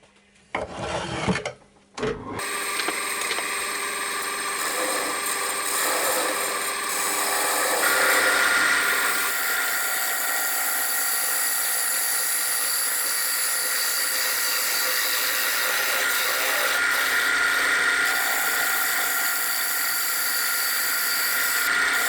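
A gouge digs out the inside of a turned wooden bowl on a lathe, giving a continuous loud rasping scrape that holds steady for about twenty seconds after a brief start.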